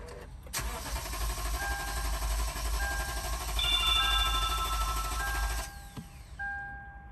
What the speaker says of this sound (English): I'm gonna go ahead and start my car.